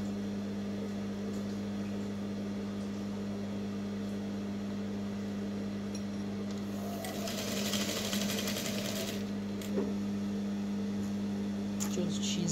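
A sewing machine runs steadily, stitching a sleeve onto the bodice of a full circle dress with a flounce, with a constant low motor hum and a brief brighter burst of stitching partway through.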